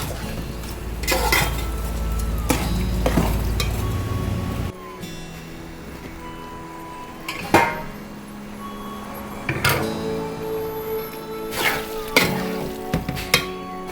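Adai payasam with soaked sago is being stirred in a pot. A spoon scrapes and knocks against the sides in scattered strokes, loud near the start, then softer and intermittent.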